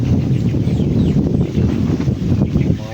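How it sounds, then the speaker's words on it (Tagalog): Strong wind buffets the microphone in a constant low roar, with faint bird calls in the background. "Lakas ng hangin dito tol."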